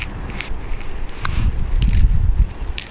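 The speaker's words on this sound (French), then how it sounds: "Et puis, il y a le vent, en plus." Gusty wind buffets the microphone on a golf course in Biscarrosse, France, with a low rumbling roar, swelling in the middle, with faint high hissy bursts over the top.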